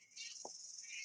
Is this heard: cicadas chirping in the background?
yes